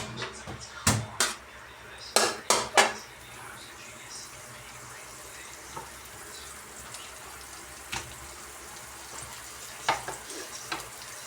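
Vegetables are sautéed in a pan for a Filipino breakfast dish, with sharp bursts of sizzle and stirring clatter early on, then quieter intermittent sizzles and a few scrapes as someone talks.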